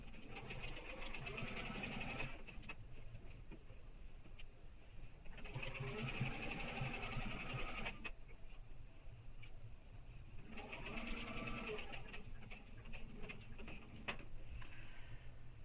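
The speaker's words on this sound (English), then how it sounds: "if my machine tends to skip stitches when I turn my fabric" A sewing machine stitching the lining of a backpack runs in three bursts of steady mechanical whirring and needle clatter, separated by quieter pauses, heard close and fairly soft.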